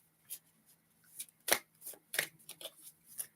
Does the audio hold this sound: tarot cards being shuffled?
yes